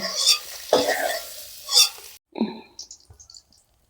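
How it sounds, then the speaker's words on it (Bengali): A spatula presses and scrapes fried eggs in a pan, giving several short, loud scraping bursts over light sizzling. A sudden cut is followed by fainter clinks and scrapes. "ডিমগুলো খুন্তি দিয়ে একটু এরকম করে দেব, তাহলে এর ভিতরে একটু মশলাগুলো ঢুকে যাবে"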